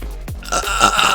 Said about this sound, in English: I just burped it out